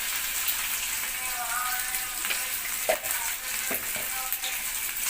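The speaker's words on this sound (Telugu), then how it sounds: "టమాటా ముక్కలన్నీ బాగా వేగిపోవాలండి." Salted tomato pieces fry in a pan for an egg masala curry, giving a steady close sizzle broken by a few stirring scrapes and clicks.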